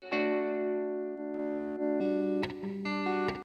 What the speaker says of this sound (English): on the last note, it has a little cool thing where it pans hard to the sides and also adds some distortion on one of them